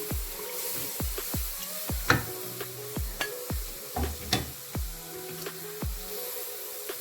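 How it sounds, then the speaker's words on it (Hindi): A spoon stirs in a pan as milk is poured into a pasta sauce, giving repeated soft clinks and scrapes against the pan over a faint bubbling sizzle, close and fairly quiet. "एक हाथ से दूध डालते जाएं और एक हाथ से चम्मच को भी साथ साथ हिलाते जाएं"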